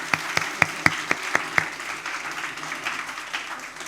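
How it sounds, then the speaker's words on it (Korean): An audience at a church young adults' gathering applauds to welcome newcomers. Several sharp claps ring out first, then the applause spreads into a softer, scattered patter that fades, close and moderately loud, without talk. "우리 새내기들 진심으로 환영한다고 박수 한번 보내겠습니다."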